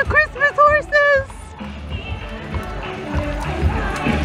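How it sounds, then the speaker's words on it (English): Horses pulling buggies in a Christmas parade, clip-clop of hooves under an excited voice and crowd cheering, steady trotting at moderate distance. "Oh, look at the Christmas horses!"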